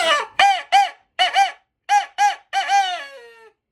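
A turkey call imitates a shock gobble, a rapid series of loud, rattling gobble notes in quick bursts ending in a trailing, descending warble, close and alone.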